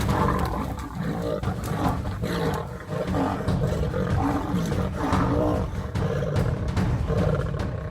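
Lions roar and snarl in a fight high in a tree, a deep, dense, continuous rumble of growls loud throughout with no talk.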